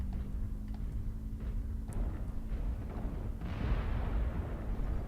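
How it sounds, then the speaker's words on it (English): Incoming missiles explode around a 75-ton Marauder MAD-3R mech in the game Mechwarrior Online, heard as deep, rumbling booms under steady low engine noise, with a broader, heavier blast swelling near the end. "Warning, incoming missile."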